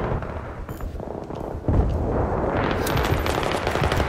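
Close, loud gunfire and a heavy blast in Battlefield 3 team deathmatch multiplayer, sustained rattling bursts and rumbling impacts filling the scene, with no talk.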